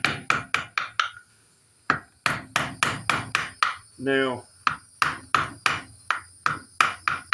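Mallet blows drive a chisel along the ramrod channel of a wooden black powder pistol stock, a close, steady series of sharp knocks with brief pauses, and someone speaks once.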